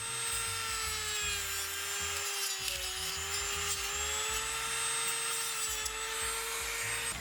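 A Dremel rotary tool fitted with a standard cutoff disc whines at high pitch while cutting plastic, with its tone wavering slightly and a rough, gritty grinding underneath throughout.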